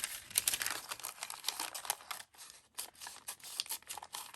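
Quiet, close snipping and crinkling of scissors working through a paper bag, with a steady series of small cuts and rustles and a brief pause midway.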